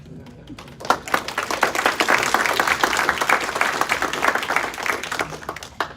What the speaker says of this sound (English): That applause was for you, by the way.